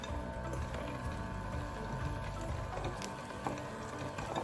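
Electric mixer blending one and a half sticks of room-temperature butter in a bowl for cookie dough, a continuous whirring drone with a faint rattle, close and fairly quiet, with no talking.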